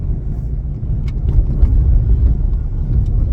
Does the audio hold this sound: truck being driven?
yes